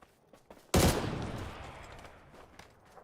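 Gunfire in the video game PUBG: one sudden loud shot or short burst bursts out after a quiet stretch with a few faint clicks, then rings off in a long fading echo.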